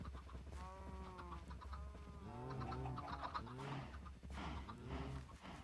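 Chickens from a Minecraft server auto chicken farm cluck and squawk in a steady, overlapping stream of game sound, fairly close and continuous with no voices over them.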